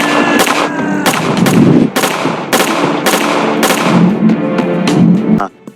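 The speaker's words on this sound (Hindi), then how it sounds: "फातिमा प्लास्टिक गन से फायरिंग करने लगती है" A plastic toy gun fires a rapid series of loud, sharp shots, about a dozen evenly spaced cracks over a continuous roar, close and dominant, cutting off abruptly at the end.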